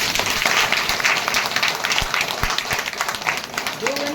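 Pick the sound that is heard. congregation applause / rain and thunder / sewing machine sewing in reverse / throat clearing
congregation applause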